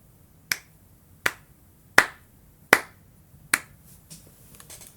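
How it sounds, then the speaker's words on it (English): Five slow, evenly spaced sharp claps ring out one by one, each crisp and close, followed by a few faint softer taps at the end, with no talking. "That was my slow clap for you."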